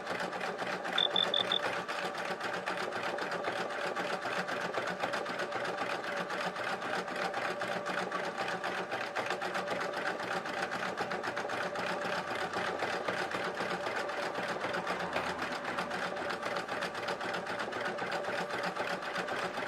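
A 2003 sewing machine running continuously, a fast steady mechanical whir and rapid needle clatter that stays even and close for nearly twenty seconds.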